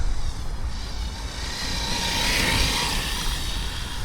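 An Arrma Big Rock RC monster truck running on a 4S lipo battery makes a loud, steady high-pitched electric motor whine with tire and drivetrain noise, swelling slightly in the middle of the run.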